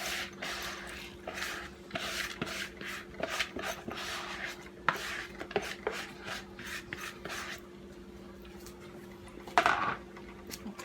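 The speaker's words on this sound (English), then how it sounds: "I'm just going to put this rice down in here." Washed rice goes into a pot of chicken broth in a home kitchen as a series of close, soft scraping and shuffling sounds with light splashes and clinks, irregular and fairly quiet.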